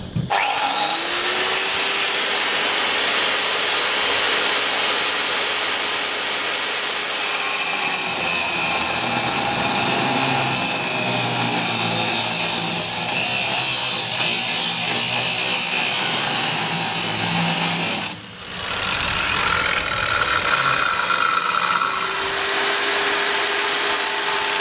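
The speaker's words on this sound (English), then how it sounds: "So I'll get in with the flap disc and just get all the paint off the strip where I intend to cut as well." A flap disc on an angle grinder strips paint from steel plate on a trawler, a loud continuous abrasive whine and rasp with a steady motor tone, pausing briefly near the end before spinning back up.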